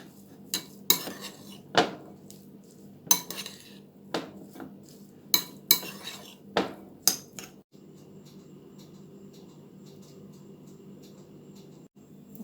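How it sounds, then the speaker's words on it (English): A utensil mixes food seasoned with black pepper in a dish, giving a string of sharp metallic clinks and scrapes against the bowl, close and fairly loud, before it settles into a quiet low kitchen hum. "Mix this up."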